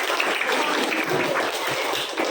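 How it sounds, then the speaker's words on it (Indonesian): Schoolchildren in an Indonesian classroom clap together in a brisk, loud burst that lasts a couple of seconds and fills the room closely. "Tepuk tangan semuanya."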